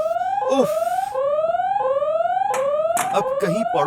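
A rising, repeating electronic alarm tone sweeps upward again and again, loud and close, with sharp clattery bursts breaking in between the sweeps.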